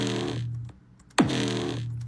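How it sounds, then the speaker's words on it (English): An 808 bass sample played back in a music production program, heard as a deep, sustained booming bass tone with a sharp pitch-dropping attack that cuts out and returns, loud and close with no voices. "So I just pulled up this crazy 808 sample that sounds like this."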